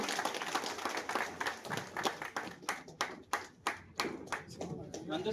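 An audience at a postal association meeting claps for a conference poster unveiling, with many hands together in uneven bursts that rise and fall, while a voice speaks over part of it.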